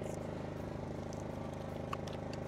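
A generator runs near Attabad Lake in Hunza, Pakistan, giving off a steady, close engine drone with an even low throb that never changes pace. Faint voices murmur underneath.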